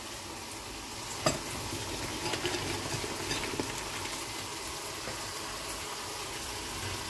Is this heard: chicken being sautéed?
yes